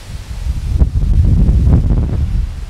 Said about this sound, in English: This wind is something else, you guys.